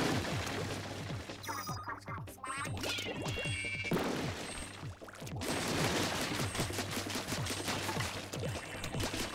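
A bomb blast and crates smashing apart in Splatoon 2, with repeated cracking and breaking impacts under steady game music, fairly quiet overall.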